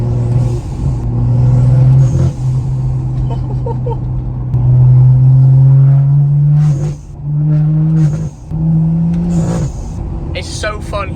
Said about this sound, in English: It's so fun hearing the exhaust brap and then the blow-off valve just after.